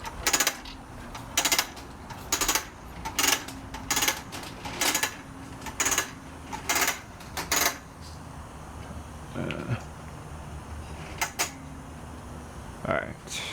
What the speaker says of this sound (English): I'm just gonna go ahead and unwind the hose for the pressure washer today.